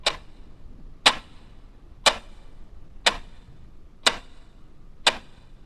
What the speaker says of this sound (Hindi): सिर्फ घड़ी के सेकंड की आवाज चारों ओर घूम रही थी।